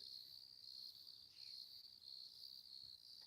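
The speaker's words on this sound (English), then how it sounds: "Crickets singing their song." Crickets chirp at dusk in a steady high pulsing trill, faint and continuous, with no other sounds over it.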